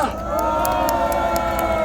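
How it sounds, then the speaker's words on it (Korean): A crowd at a street rally in front of the Constitutional Court claps and cheers in a dense, steady wash of applause, loud and close, with shouts mixed in. "힘찬 응원의 박수 부탁드립니다."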